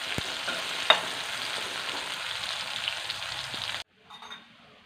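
Onions and chillies fry in hot oil for a Kerala side dish with a dense, steady crackling sizzle and occasional stirring. The frying cuts out abruptly near the end, leaving a brief quieter tail.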